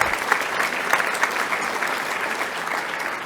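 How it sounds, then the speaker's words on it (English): Sustained applause from a crowd at a conference awards luncheon, steady clapping filling the room for several seconds at an even level, with no talking over it. "that deserves a round of applause."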